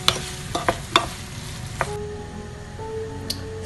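A chicken curry mix being stirred in a pan, with several distinct scrapes and clacks over a soft sizzle, close and fairly loud, with no talking.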